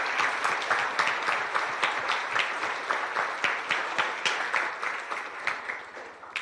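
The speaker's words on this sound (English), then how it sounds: "one more round of applause for our wonderful poets that we have here with us tonight" A school audience claps steadily and continuously for young poets at an evening district event, dense applause filling the room without pause.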